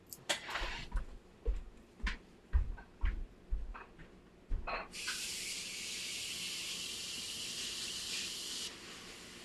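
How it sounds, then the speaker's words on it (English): Several sharp knocks and clatters at a sink, then a kitchen tap opens and runs in a steady hissing stream for several seconds before shutting off. "I have to go to the sink really fast and wash this off"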